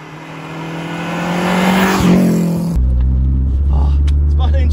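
A Lancia Delta Integrale HF Evo1 drives downhill on a short test course, its engine note loud and close, rising to a peak before shifting to a steadier low drone.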